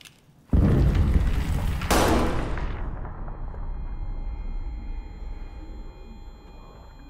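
In the trench horror game Amnesia: The Bunker, a single heavy gunshot booms close and loud, followed by a second blast and a long rumbling decay fading into a low hum.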